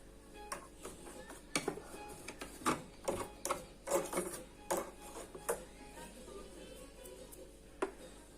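A small electric machine being serviced at home gives off irregular clattering clicks and rattles, close and fairly quiet, in scattered bursts with brief pauses between them.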